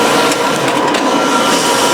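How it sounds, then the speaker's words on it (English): A Mimaki JV330 wide-format printer running a black stripe, its steady mechanical whir and carriage hum filling the space continuously and fairly loud, with no voices. "it starts printing for the black stripe for 4 positions"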